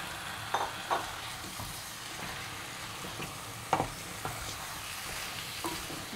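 Desi (country) chicken pieces frying in a pan for a spicy Bengali-style curry, with a spoon scraping and stirring in repeated strokes over a steady low sizzle, close up and with no talk.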